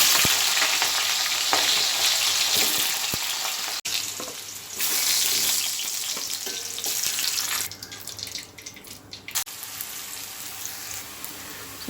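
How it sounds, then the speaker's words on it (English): Potato pieces fry in about two tablespoons of oil with cinnamon sticks in a pan for aloo matar curry, a steady close sizzle with occasional stirring scrapes and brief shifts in intensity. "First I am frying this potato."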